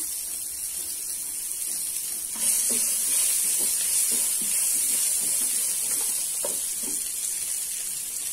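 Small shallots sizzling in hot oil in a pan for a Tamil toor dal tomato kadayal, a steady hiss that grows louder partway through, with soft stirring clicks and scrapes at close range.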